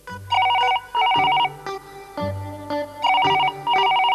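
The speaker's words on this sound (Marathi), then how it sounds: "अगं तो फोन वाजतोय, उचल ना" A telephone bell rings indoors in a repeating double-ring pattern, several bursts with short gaps, clear and fairly loud with no voices over it.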